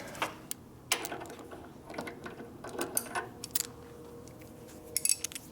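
Ratchet wrench clicking on a part of a 1973 Shovelhead 74ci bobber build, giving scattered short bursts of ratcheting and metallic clicks at close range with no speech.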